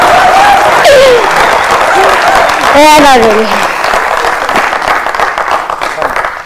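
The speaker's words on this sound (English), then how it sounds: "Can we have a round of applause?" Auditorium audience at a conference clapping in sustained applause, loud at first and gradually thinning, while a voice speaks briefly over it.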